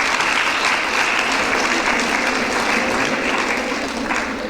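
Sustained applause from an audience at a Sir Syed Day bicentenary celebration, a dense, steady wash of clapping that stays loud and even throughout without pause.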